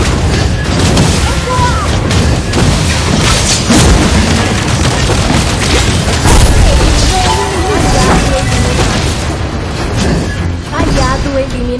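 Booming blasts in a mobile battle game played on an emulator, loud and dense, repeating over a continuous wash of game effects and music, with a game announcer voice speaking.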